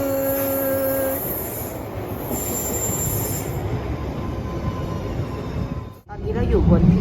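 A London train heading to Ealing Common station rumbles along with a high metallic wheel squeal early on, a steady rolling roar, and a brief drop before it surges again.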